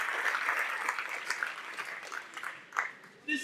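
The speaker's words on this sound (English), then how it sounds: "Give them a round of applause." Audience applause at a Labor Day breakfast hosted at St. George's, a steady wash of many hands clapping at moderate distance, with voices mixed in and a brief louder burst near the end.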